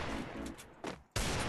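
Gunfire in a mobile shooting game played on the BlueStacks emulator, with a few bursts of shots and a short gap before a louder final burst, no talk.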